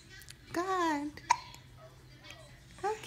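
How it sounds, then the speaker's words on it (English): A three-month-old baby hiccups a few times at close range, the sharp little catches mixed with soft cooing vocal sounds amid quiet pauses. "look at the hiccups"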